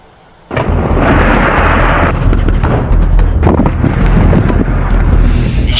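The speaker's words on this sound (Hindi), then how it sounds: "ये धमाके, जमीन से हमला, आसमान से हमला" Loud, sustained rumbling blasts from a military exercise in Russia, a heavy roaring wash of explosions starting abruptly and continuing without pause, dense and booming throughout.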